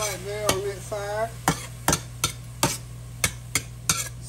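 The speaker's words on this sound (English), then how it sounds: "got those shrooms in the pan now, y'all" About two cups of mushrooms sautéing in a pan, a regular series of sharp spatula clacks against the pan over a low background hum, with a brief voice-like murmur early on.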